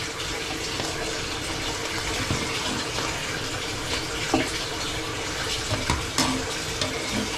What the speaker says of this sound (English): just put it through cold water